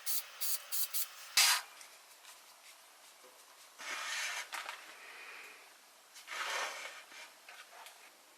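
Short hissing bursts of spray paint, a few quick puffs then longer sprays, close and moderately loud with quiet gaps between.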